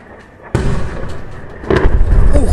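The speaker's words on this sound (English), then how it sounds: "And this are definitely secondary explosions." Sudden loud booming secondary explosions in a combat zone near Belgorod, one abrupt burst followed by a second heavier rumble, echoing with a crackling, rolling tail.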